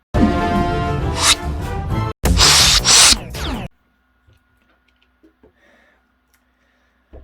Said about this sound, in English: This is the sound of the alien being destroyed